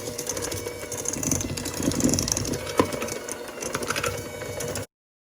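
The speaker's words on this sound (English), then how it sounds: "we're gonna start by creaming the brown sugar and the butter together" An electric mixer creams brown sugar and butter together in a bowl, a close, continuous whirring hum with rattling and scraping from the beaters, stopping abruptly near the end.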